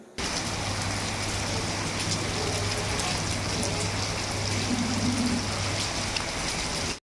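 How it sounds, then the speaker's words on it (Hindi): Heavy rain falls in a dense, constant roar of drops hitting surfaces, steady and close for the whole stretch. "बारिश हो ही रही है और काफ़ी मोटी बारिश है।"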